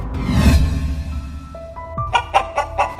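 Several chickens cluck around a house, a run of short, close clucks and calls following a soft rushing whoosh at the start.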